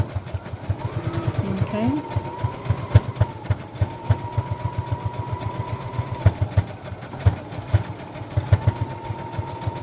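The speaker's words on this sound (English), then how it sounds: "just put a zigzag stitch around the edging on the outside of your line" A sewing machine runs a zigzag stitch around fabric edging for a small coin holder or earbud case made from scraps, with a steady rapid mechanical chatter throughout and a brief spoken word over it.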